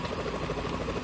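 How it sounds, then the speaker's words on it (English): A helicopter in the video game Metal Gear Solid 2 sounds as a low, steady rotor rumble with a faint engine drone, heard alone for about a second. "Is that a chopper I just heard?"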